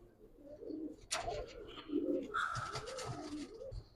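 Pigeons coo in soft, rounded, repeated calls at close range after landing, with a sharp click and some brief higher chirps in between, over a quiet background.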